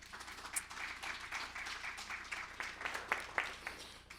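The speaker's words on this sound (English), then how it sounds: "Can we just give them a round of applause?" Steady applause from an audience, a crowd clapping continuously at moderate distance, fairly soft, with a few sharper individual claps standing out.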